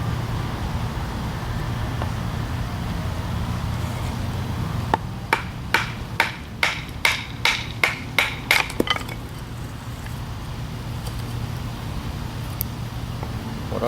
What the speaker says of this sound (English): Go ahead and baton the spindle here.